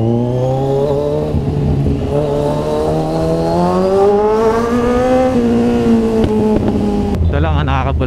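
Kawasaki Z1000 big bike riding on a service road, its engine droning steadily and close with rising and falling harmonic pitch as it accelerates through gears, continuous throughout with a brief revving shift near the end.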